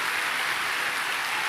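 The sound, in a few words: applause from the church congregation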